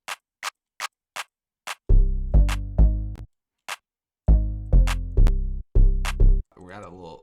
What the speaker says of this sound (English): Let's get a clap in here.